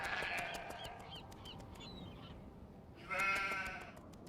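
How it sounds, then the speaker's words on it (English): A sheep bleats twice in the video game Nancy Drew: The Haunting of Castle Malloy, a long wavering bleat then a shorter one after a pause, fairly faint against a quiet background with rhythmic ticking. "There's a fucking sheep"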